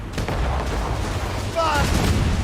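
Ship cannon fire in the video game Assassin's Creed Rogue: a low rumbling blast with a short burst of shouted voices amid steady naval battle din.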